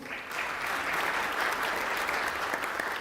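A Christmas jazz concert audience breaks into applause for a trumpet and flugelhorn player. The clapping swells within the first half second, then holds as a dense, steady roar of hands.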